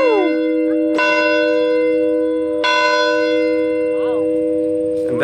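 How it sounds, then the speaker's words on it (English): A historic church bell at the Laura Ingalls Wilder home site in Burr Oak, Iowa, is struck loudly up close three times, each clang ringing with long sustained overtones, while a voice murmurs briefly in the background. "This bell belonged to the church that Ma and Pa joined."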